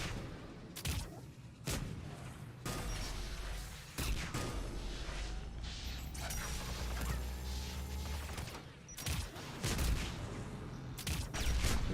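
Missile launchers fire in the game Mass Effect 3, with repeated loud booms and blasts among mechanical combat noise. The impacts come in irregular bursts over a steady rumbling battle background.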